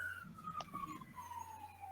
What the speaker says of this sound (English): Oh, did you hear the siren?